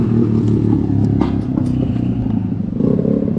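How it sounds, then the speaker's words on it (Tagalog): Motorcycle engine passing on an early-morning street, a close, loud rumbling putter with some clatter over a few seconds. "Ingay ng motor."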